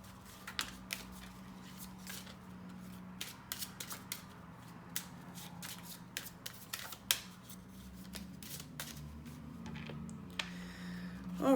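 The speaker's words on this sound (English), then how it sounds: "Just gonna give it a little shuffle." A tarot card deck being shuffled at close range, a string of quick papery flicks and riffles in irregular bursts over a low steady hum, with no talking.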